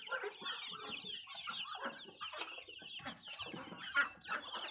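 Farm ducks crowding and scrambling for food, a dense busy chorus of close quacks and clucky calls over the whole stretch.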